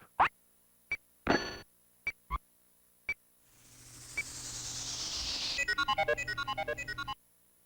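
An exit-shop sound effect from the video game Silhouette Mirage: a few sharp plops and bleeps, then a rising hissy sweep that ends in a fast run of bright, bouncy tones, loud and alone.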